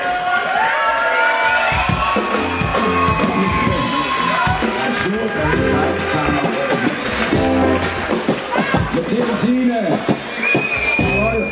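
Loud, continuous applause and cheering from a packed hall at a live Swiss party-band concert, with crowd shouts and whistles rising above dense clapping for the whole stretch, and a voice speaking over it.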